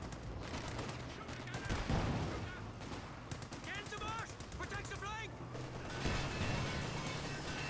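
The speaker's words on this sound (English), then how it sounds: "Oh, incendiary rounds." Incendiary rounds fire in Company of Heroes 2 as a dense, continuous crackle of gunfire and bursts, with faint whistling sounds, under a commentator's talk.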